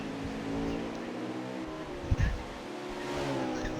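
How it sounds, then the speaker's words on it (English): A race car engine hums steadily through the last corners of a circuit race, with a brief louder thump midway and the engine note holding under the background. "Drastically saving fuel through these last few corners. Can Racing Rocks 24 in the 12 car make it to the checkered flag?"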